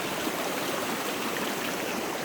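Steady rushing of a Vermont stream running high after overnight rain, broad and continuous, close by with no pauses or voices.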